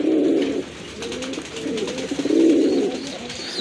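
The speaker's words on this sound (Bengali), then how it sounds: "মাশাআল্লাহ, আরেক জোড়া কবুতর" Fancy pigeons at a market coo in repeated low, rolling phrases, loud and close, with short pauses between bursts and a busy background.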